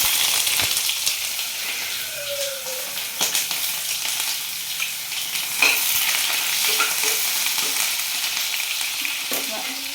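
Onion frying in a small amount of oil in a pan gives a steady, close sizzle, with occasional stirring scrapes and clinks.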